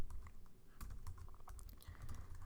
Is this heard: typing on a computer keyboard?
yes